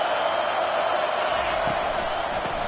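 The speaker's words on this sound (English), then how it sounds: "This crowd bringing the energy and noise early." Roaring football stadium crowd at an NC State game, a dense, loud and continuous wash of cheering and noise that stays steady throughout with no break.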